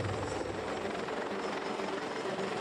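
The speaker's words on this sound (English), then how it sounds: "The helicopter is desperately trying to land on deck." A Danish Navy helicopter struggles to land on a French Navy ship's flight deck in a heavy swell, its rotor and engine giving a steady, loud, close roar with no break.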